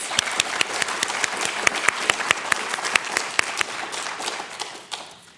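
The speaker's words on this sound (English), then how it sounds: "Let's have a round of applause" Audience at a university Veterans Day ceremony gives a round of applause, steady clapping from a modest crowd with a few sharp nearby claps standing out, fading toward the end.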